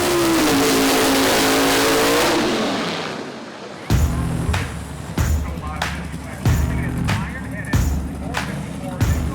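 A two-wheel-drive drag racing car roars loudly at full throttle down the strip, its engine note falling away, followed by a series of rhythmic thumping bursts from nearby engines.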